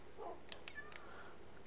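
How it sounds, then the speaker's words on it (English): Cats in Minecraft give a couple of short, faint meows, brief high mewing calls over quiet game ambience. "Oh, what nice little kitties."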